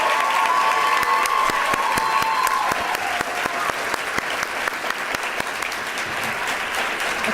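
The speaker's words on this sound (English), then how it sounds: "Please join me in giving this group of phenomenal servant leaders a round of applause." An audience at a student leadership awards ceremony applauds a group of student leaders, with dense, sustained clapping that stays steady throughout and has a few faint cheers mixed in.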